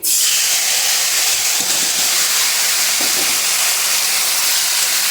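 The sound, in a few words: chopped tomato added to hot oil, sizzling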